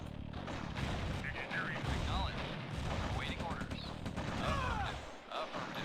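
Command & Conquer Red Alert battle as units fire on a V2 rocket launcher: a dense, continuous barrage of gunfire and explosive blasts with whistling projectiles, loud and busy throughout.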